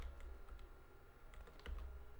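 Typing on a computer keyboard, a few faint scattered key clicks in small bursts over a low background hum, close but quiet, with no talk.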